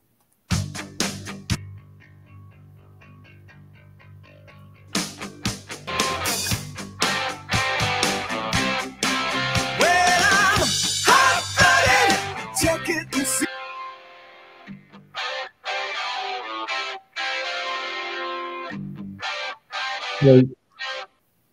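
Heavily distorted bass guitar chugs through a dense rock mix, thick and gritty, with a sparser section near the end.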